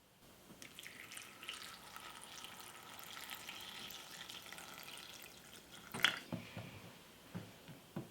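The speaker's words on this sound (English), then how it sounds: "I'm gonna pour until the vinegar comes just right up to the top edge of" White distilled vinegar poured from a bottle over peppers and garlic packed in a jar, a soft steady trickle with light splashes and a few drips near the end, close by and alone.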